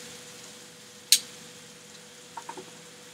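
A ribeye steak sizzles in a hot, oiled pan: a faint, steady frying hiss with one sharp pop and a few small crackles near the end. No one speaks.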